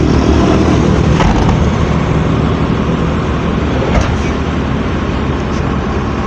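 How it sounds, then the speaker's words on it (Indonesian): Tour buses with a friendly driver rolling along a road in Salawu, Indonesia: a loud, steady engine and tyre roar close by, with a couple of brief higher whines or horn-like notes over it. "dua bis rombongan dengan supir Bapak Budiman yang ramah"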